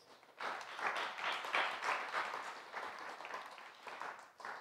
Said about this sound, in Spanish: hacemos un fuerte aplauso al Señor por nuestras ofrendas